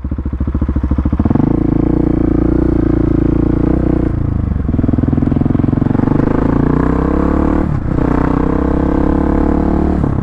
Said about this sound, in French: Ce bruit, alors c'est peut-être pas le bruit le plus noble, c'est un peu comme coller un pot mégaphone sur une 125